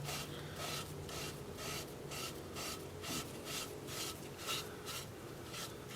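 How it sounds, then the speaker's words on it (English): A finish being rubbed onto a 7-inch alder live-edge wooden bowl, the first coat of sanding sealer going on after sanding to 400 grit, gives steady rhythmic rasping strokes about twice a second, close and moderately quiet, with no talking. "I'm just putting on the first of 2 coats of sanding sealer."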